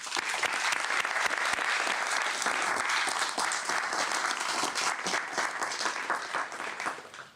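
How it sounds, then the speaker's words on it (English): Applause at a press conference announcing Moravian Church settlements, a full, continuous patter of many hands at moderate level that thins and fades out at the end. "let's give them all a round of applause"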